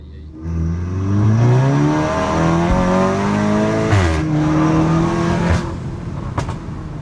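A Golf GTI Performance accelerates hard with a loud close engine roar climbing through gears, a pitch drop at each shift, then easing off near the end.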